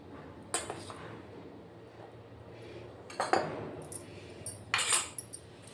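Maida and cornflour coating with salt and chilli powder for baby corn Manchurian is stirred in a bowl, producing three short clusters of spoon clinks and scraping over a quiet room hum.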